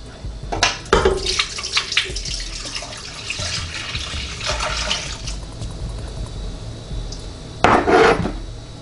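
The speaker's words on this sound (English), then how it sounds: "Now I'm going to pour in my fluids." Liquid poured into the pot of an Emeril Lagasse Pressure Air Fryer Duet for a turkey breast, heard as short splashing bursts with quieter trickling between, and a final splash near the end.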